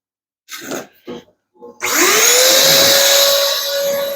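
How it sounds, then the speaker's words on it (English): A few handling knocks, then an ash vacuum motor starts up nearby, cleaning a pellet stove, its whine rising in pitch and running loud and steady. "Then I grab our ash vac."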